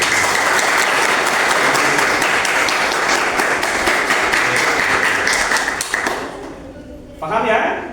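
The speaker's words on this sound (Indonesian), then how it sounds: "kalau paham kasih tepuk tangan buat Nurul." A classroom of students applauds a mathematics lesson on matrices, a dense, steady clapping that runs strong for about six seconds, then thins out and fades, with a brief renewed burst near the end.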